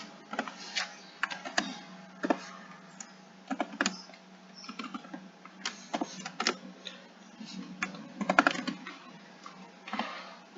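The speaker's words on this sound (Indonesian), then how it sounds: "kemudian ketikkan fungsinya" Steady typing on a computer keyboard while entering a function in Maple math software, quick clusters of close, crisp key clicks with brief pauses between bursts and no voices.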